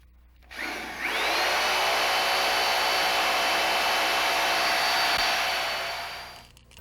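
A power drill bores bolt holes through the support tube and bulkheads of a RotorWay 162F helicopter kit. It spins up, then holds a loud, steady whine for about six seconds before winding down, with no other sound.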